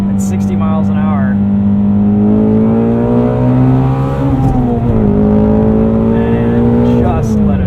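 A Ford Mustang Shelby GT350 engine roars loudly from inside the cabin after a downshift into second at speed, a strong sustained rev with rising and falling pitch, heavy and continuous, with a voice briefly heard over it.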